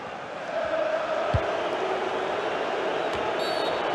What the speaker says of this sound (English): The crowd certainly think so. Just listen to them.